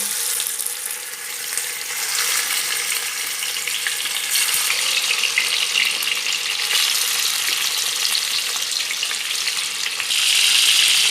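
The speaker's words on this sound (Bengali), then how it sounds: "এবার আমি মাছগুলো ছেড়ে দিচ্ছি তেলের মধ্যে।" Bhetki fish pieces frying in hot mustard oil, a steady, close, bright sizzle that holds evenly throughout with small crackles and a slight swell near the end, no voices.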